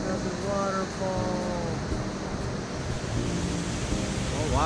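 Ocean surf rolls in at a Maui beach resort as a continuous broad wash of noise, with people chatting excitedly over it and a brief rising exclamation at the end.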